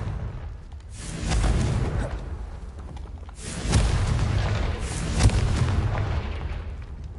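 Confringo blasting spell explosions in Hogwarts Legacy, several loud booming blasts with sharp cracks spaced a couple of seconds apart, each trailing into a low rumble, with no voices.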